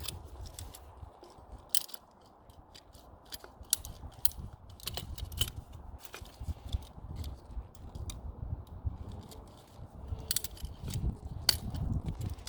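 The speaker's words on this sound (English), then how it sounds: "I'm going to cut this burr off." A burr is cut off a freshly cut pipe before a new valve goes on, heard as a run of small, close scraping and snipping clicks, irregular and fairly faint, over a low background rumble.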